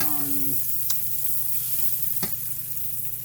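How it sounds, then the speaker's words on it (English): Chopped onions sauté in olive oil in a pan, giving a steady close sizzle with a couple of faint clicks from stirring. "I am sauteing up some onions because I am going to put some salmon in that pan with it."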